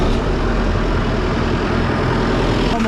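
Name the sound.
boat diesel engine being started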